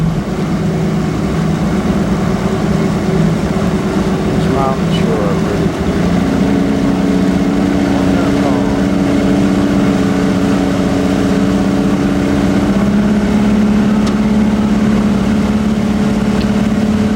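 A motorboat engine drones loudly and steadily as a fishing boat leaves a harbor in Alaska, its pitch shifting as the boat picks up speed, with water and wind noise underneath.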